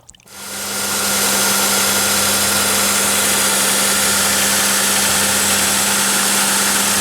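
A Chevy Impala engine turns over and catches, then settles into a loud, steady idle with a constant droning hum close by.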